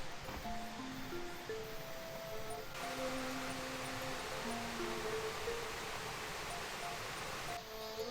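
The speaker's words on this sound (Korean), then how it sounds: "조금 전 내려가 본 계곡의 물소리가 더욱 정겹게 들려오기 시작했어요" A mountain valley stream flows steadily along a forest walking trail on the way to a waterfall, its broad, even rush continuing throughout beneath soft background music.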